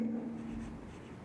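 Chalk or marker writing on a classroom board as Sanskrit verb forms are worked out, a short close scratching stroke with a steady tone under it and no voice.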